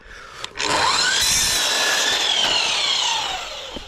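A power saw cuts through herringbone laminate flooring planks at a 45-degree angle, giving a loud, steady whining rasp for about three seconds after a brief start, then tapering off. No one speaks.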